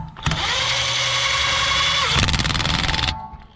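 A pneumatic impact wrench tightens an axle nut on an S13 240SX rear hub swap, a steady loud whir of about two seconds breaking into rapid hammering bursts before stopping, close and alone without talk.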